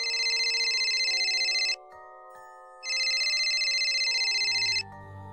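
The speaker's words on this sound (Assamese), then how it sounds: "ৰমেনৰ মোবাইল ফোনটো যে বজি উঠিছিল।" A mobile phone ringtone plays loud and close, a bright electronic melody in two long bursts separated by a short quieter pause, with no voices.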